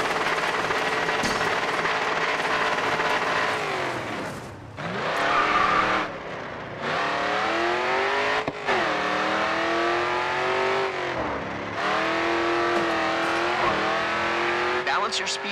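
A race car engine in the Grid 2 racing game revs hard through rising and falling gear changes while drifting, with tire squeal through the slides and a voice speaking over the loud, continuous engine.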